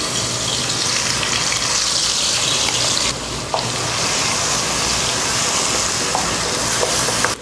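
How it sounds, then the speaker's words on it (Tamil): Ground shallot paste frying in oil in a pan for a Tamil chicken kuzhambu, a steady close sizzle and crackle throughout with a brief dip midway, no talking. "வெங்காயம் வதக்கியாச்சு"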